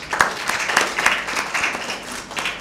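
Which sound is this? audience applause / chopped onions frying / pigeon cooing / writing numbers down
audience applause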